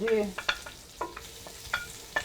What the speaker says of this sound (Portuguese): Agora eu vou botar, André, aqui o tomate na panela